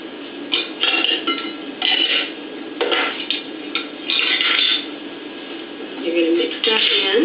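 Flour, sugar, salt and baking soda being stirred together in a mixing bowl for banana nut bread batter, heard as close, intermittent scraping and stirring bursts with short pauses between strokes.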